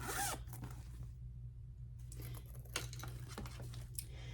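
A zipper on a small zip-up bag with a Kentucky Bluegrass State design is run open in a few quick rasping pulls, close and fairly quiet over a steady low hum, with no talking.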